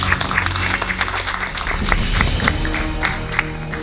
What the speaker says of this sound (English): We all get a round of applause.